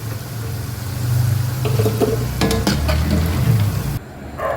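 Kaara bonda, spicy tea-shop fritters, frying in vanaspati oil: a steady bubbling sizzle with a low hum beneath it and brief crackles midway, cutting off sharply near the end.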